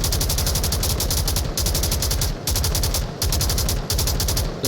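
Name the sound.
gunfire in the VR video game Onward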